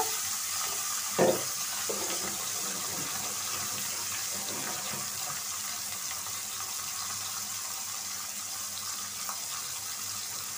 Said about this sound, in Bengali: মাছটা ভাজা হোক, ভাজা হওয়া পর্যন্ত আমরা অপেক্ষা করি।